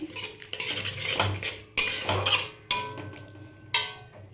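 Baby corn and soy sauce get tossed together in a pan, with a metal spoon scraping and clanking against it in several distinct strokes, each a close, bright burst of stirring with short gaps between.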